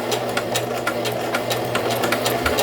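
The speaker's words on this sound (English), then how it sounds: "I just line my presser foot up with the edge of the collar, drop it down, and I begin sewing" A sewing machine runs through a dress collar in a steady, close, continuous hum with a rapid rhythmic stitching pulse, alone with no voices.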